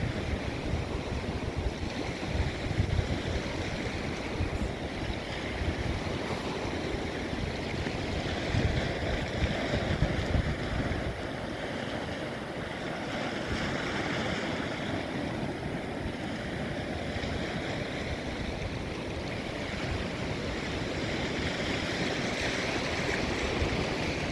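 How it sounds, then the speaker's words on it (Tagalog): Steady wash of water waves lapping and splashing against stones, continuous and fairly loud, with no voices. "Ang sarap pakinggan ng hampas ng mga tubig"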